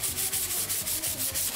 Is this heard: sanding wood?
yes